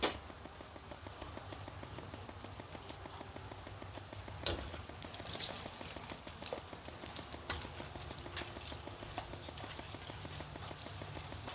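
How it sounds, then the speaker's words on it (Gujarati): Rice vadi frying in hot oil gives a continuous soft crackle and sizzle with scattered pops, close and fairly quiet, swelling briefly as the pieces go in, with no one speaking. "તેલ આવી ગયું છે ને હું આ વડી નાખું છું અંદર"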